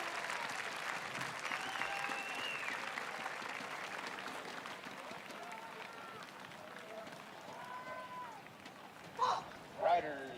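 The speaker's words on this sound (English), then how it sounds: "Applause, applause, applause. Let's hear you." A crowd at the UCI BMX Racing World Championships in Copenhagen applauds in a steady, distant wash, with a voice speaking over it.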